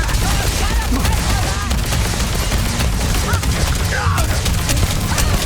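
Gunfire during a ship attack in the video game Starfield: dense, continuous bursts of shots and blasts, loud and up close, with sharp impacts layered over a rumbling low roar.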